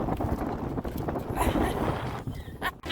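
Strong wind at Panama City Beach buffets the microphone in a continuous rough roar with gusty swells, fairly loud and close, with no clear talk.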